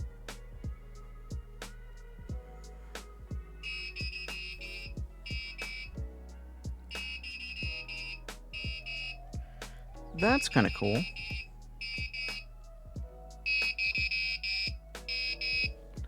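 Intermittent electronic buzzer from an ultrasonic tripwire circuit, sounding in repeated bursts of steady tone with short gaps, with a louder warbling stretch midway, close by under a person speaking.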